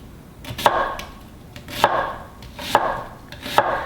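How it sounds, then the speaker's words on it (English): A knife slices through an onion on a cutting board in four distinct, evenly spaced chops, each a crisp close thud with a short tail. Between strokes the room stays quiet and no one speaks. "Again, slice about it as wide as a kernel of corn."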